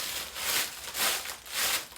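A plastic bag is rubbed together to mimic moving water, giving a soft rhythmic rustling whoosh that swells and fades about three times, close and steady with no talk.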